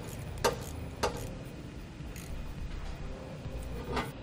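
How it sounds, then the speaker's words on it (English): Ratchet with a quarter-inch socket tightening a hose clamp on a 2017 Chevrolet Equinox transmission cooler line, a few faint, sharp clicks spaced about half a second apart over low background noise. "You can also use a quarter inch socket on these clamps and use a ratchet"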